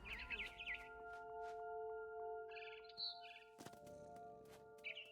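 A barn swallow near its nest lets out quick, high chirps and twitters in short bursts over quiet background music in What Remains of Edith Finch; the calls are fairly close but soft.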